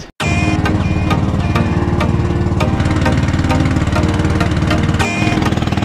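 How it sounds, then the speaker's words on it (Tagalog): A small fishing boat's engine runs steadily on a calm sea, a loud, close, rapid mechanical chugging that continues without a break after a brief start. "So walang problema ang makina natin."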